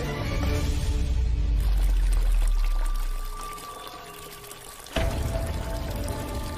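A large amount of water flows and gushes in a domestic scene, a loud steady rushing pour that fades partway through before a sudden sharp burst of renewed splashing, with no talk over it.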